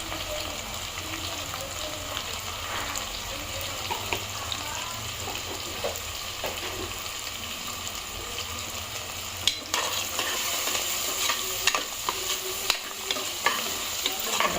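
Curry leaves and turmeric frying in hot oil for pappu charu, a steady close sizzle with light stirring scrapes throughout, growing slightly louder with a few sharper crackles toward the end.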